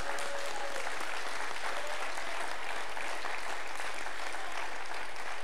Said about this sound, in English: Come on, clap your hands real loud.